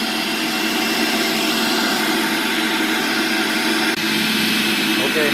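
A Breville 800JEXL Juice Fountain Elite juicer motor runs at high speed, a loud, steady whirring roar with a broad hiss, holding constant throughout with a brief dip near the end.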